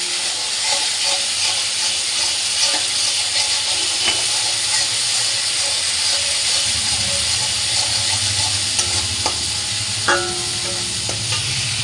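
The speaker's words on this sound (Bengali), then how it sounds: "এই দেখো মশলাটা ভাজা ভাজা হয়ে যাচ্ছে" Spice paste with turmeric and salt fries in a pan, giving a steady hiss and sizzle that runs unbroken for about twelve seconds, with a few faint clinks along the way.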